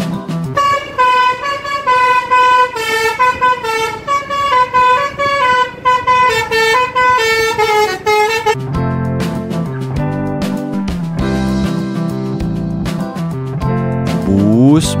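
Bus telolet horns from Indonesian buses play rapid, tuneful honking melodies, loud and close, running in continuous patterned bursts with no talk.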